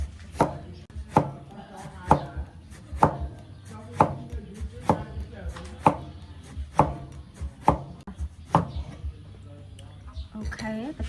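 A knife chopping ingredients for a Cambodian eggplant and egg dish, with about a dozen crisp, evenly spaced strokes roughly a second apart, close up, and faint room noise between them.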